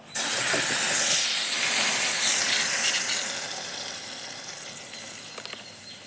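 Mutton pieces dropped into hot oil for deep-frying, erupting in a loud, bright sizzling hiss that slowly settles into a steady, quieter crackle.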